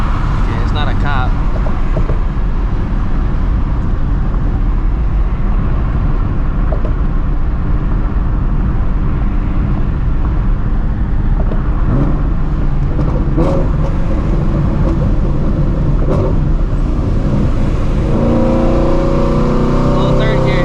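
A supercharged Shelby GT350's exhaust roars loud and close as the car accelerates hard in third gear, a sustained harsh engine drone climbing steadily in pitch for about twenty seconds, with a faint voice under it.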